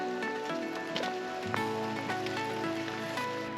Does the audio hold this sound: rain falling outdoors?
yes